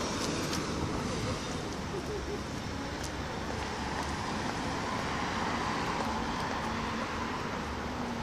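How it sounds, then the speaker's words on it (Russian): Steady traffic rumble along a city's central street in Barnaul, a constant wash of passing cars with no clear individual events, moderately distant and even throughout. "Это у нас центральная улица в городе."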